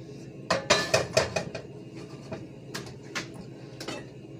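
Diced onion is tipped into a cooking pan while preparing casamiento: a quick run of close clattering knocks and clinks, followed by a few scattered, softer taps.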